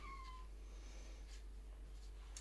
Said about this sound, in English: The cat just wants to be let out